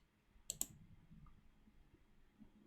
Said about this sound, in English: I wish you guys couldn't hear me clicking around aimlessly like that